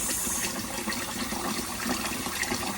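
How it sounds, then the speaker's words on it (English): Sauce poured into a pot of rice for smoky party jollof rice, giving a steady, close liquid gush that runs without a break throughout, with no talking. "we go ahead and add our sauce to the rice"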